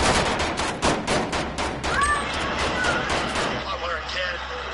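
Video game gunfire fires in rapid bursts, loud and close, paired or stuttering shots clustered in the first half before tailing off, with players talking over the shooting.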